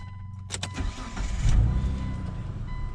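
A Mitsubishi car that has already warmed up cranks briefly with a few clicks and then catches, its engine rising into a steady close idle.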